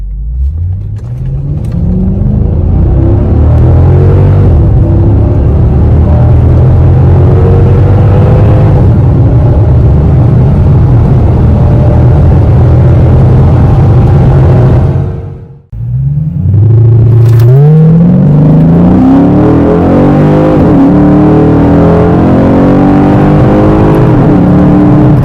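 A 2005–2010 Chrysler 300 SRT8 with its 6.1-liter Hemi V8 and five-speed automatic accelerates hard, a loud deep rumble climbing in pitch through the gears, a brief drop at a shift, then pulling strongly again.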